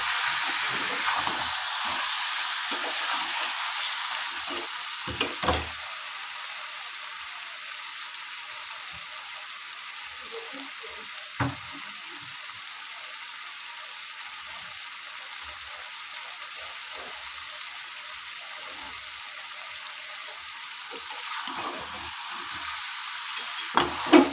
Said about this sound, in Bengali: এবার কষতে থাকো।